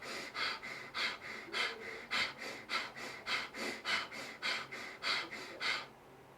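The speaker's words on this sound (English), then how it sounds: "So Bhastrika, forceful inhale, forceful exhale, 30 strokes, 3 rounds." Bhastrika pranayama breathing with about fifteen forceful, evenly spaced breath strokes in a steady fast rhythm, each a loud rushing burst of air, close and alone with no talk.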